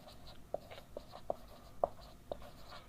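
Pen writing out a maths solution on paper, soft close scratching strokes with a few sharper taps, quiet and steady over faint background noise.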